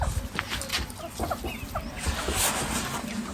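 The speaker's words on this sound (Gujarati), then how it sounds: "આપણા મરઘીના બચ્ચાઓ" Young chicken chicks on a farm cluck and peep in soft, scattered bursts against a rustling outdoor background, fairly faint and close.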